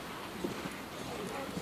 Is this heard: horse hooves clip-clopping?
yes